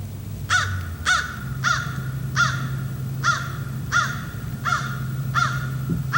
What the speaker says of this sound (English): The crow calling seems to have made this bird very excited.